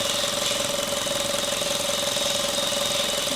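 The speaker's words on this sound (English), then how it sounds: "The engine is running." A Skoda car engine with a throttle body fault idles nearby, a loud, steady mechanical drone with an even, constant hum and no break throughout.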